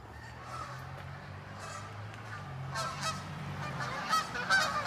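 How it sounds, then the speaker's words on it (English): Geese honking at a moderate distance, a few scattered calls over a low steady rumble of background noise. "Geese, cool."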